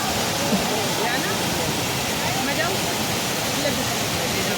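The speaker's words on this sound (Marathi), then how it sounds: "वा सुंदर असा तो धबधबा" A waterfall where a crowd of visitors has gathered gives a steady, broadband roaring rush of falling water that fills the whole scene, with faint voices under it.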